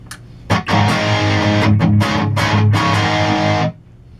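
Distorted electric guitar from a Gibson Les Paul Custom fitted with Bare Knuckle VHII pickups, one loud pick attack followed by a run of heavy chugging chords and short stabs that ring out for about three seconds before cutting off.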